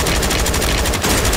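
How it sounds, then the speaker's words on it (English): Rapid automatic gunfire in a shooter video game, a loud, dense burst of machine-gun shots rattling continuously at close range with no voices over it. "I'm getting fucking shot at"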